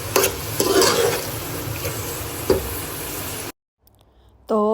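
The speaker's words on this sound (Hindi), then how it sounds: "ये देखें प्याज को हमने लाइट ब्राउन करना है। ये लाइट ब्राउन होता है" Onions browning in a pan, frying with a steady broadband sizzle and scraping stir strokes for about three and a half seconds, then a sudden cut to near silence and a brief tonal sound at the end.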